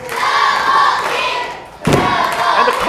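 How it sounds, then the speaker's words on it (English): A wrestler's big splash onto an opponent in the ring at a live independent wrestling show: one heavy thud about midway through the clip, over loud, steady crowd noise and shouting. "Big splash! Right on top of Double D."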